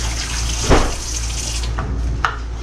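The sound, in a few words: pouring broth into pot for yellow rice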